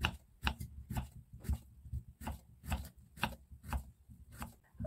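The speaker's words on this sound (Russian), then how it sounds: "Свежий огурец разрезаю пополам и нарезаю полукольцами." Steady knife chops slicing a fresh cucumber into half-rings on a cutting board, about ten evenly spaced crisp strokes, close and clear with no talking.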